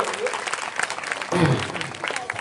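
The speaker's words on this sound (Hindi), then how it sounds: "जोरदार तालियों से आप लोग स्वागत करते रहिए" A crowd at a Ramleela gathering at Maa Sati Dham in Gajendrapur, Sultanpur claps to welcome a guest, with applause rising and falling briefly under voices.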